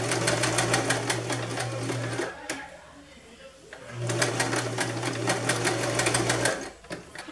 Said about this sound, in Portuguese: Aí, depois de arrumar, eu vou costurar aqui.